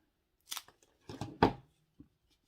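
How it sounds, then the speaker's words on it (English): Excess pool noodle foam is cut off with a few quick, quiet snipping and tearing sounds close by, spread over about two seconds, with brief silences between them. "we're just going to cut that off"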